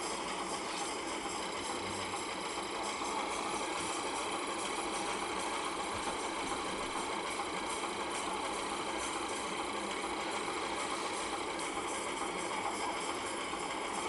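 An Alco RS27 diesel road-switcher locomotive, first built in 1959, runs in the Trainz train simulator game, producing a steady, even engine drone that holds unchanged throughout with no other sounds.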